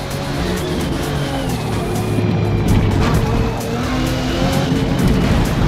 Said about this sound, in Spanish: Este motor definitivamente es uno de los más eficientes que hay en el juego, el V6 Twin Turbo.